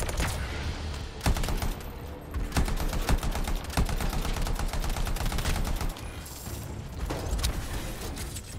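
Burst-fire weapon shots in a video game, rapid repeated gunfire bursts dense and loud throughout, with sharp individual cracks standing out over a busy mechanical din.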